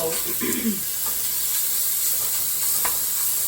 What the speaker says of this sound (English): While our bacon is cooking up